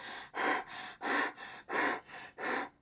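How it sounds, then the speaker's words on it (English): Heavy, rapid panting: five loud, rhythmic breaths in quick succession, close up with no other sound. "Panting is breathing really hard."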